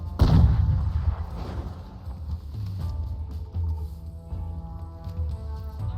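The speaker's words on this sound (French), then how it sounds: "Wow, grenade." A grenade goes off in the shooter game Crysis with a loud, deep boom right at the start. Rumbling gunfire and mechanical game sounds follow at lower level, and no one speaks over it.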